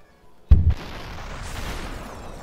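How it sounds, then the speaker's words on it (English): A gun explodes in SUPERHOT with one sharp, loud boom that cuts in suddenly, then a hissing, crackling tail that slowly fades over the next two seconds. "Oh, his gun exploded."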